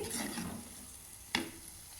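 Coconut milk sauce for pasta being stirred in a pan, a low, steady scraping and bubbling with one brief, sharper clink of the utensil near the end, alone and fairly quiet.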